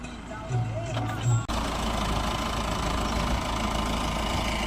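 A farm tractor engine runs steadily during field work, a continuous low rumbling drone near the listener, with people talking over it at the start.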